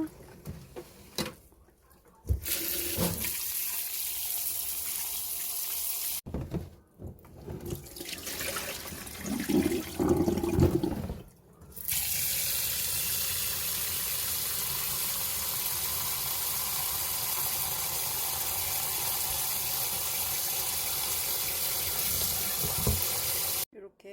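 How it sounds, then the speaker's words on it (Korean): Running tap water pours steadily into a sink as beef ribs are rinsed after soaking in cola, broken by short pauses before a long continuous stream, fairly close and loud. "콜라물 버리고 흐르는 물에 몇 번, 한 세 번 정도 헹구면 됩니다."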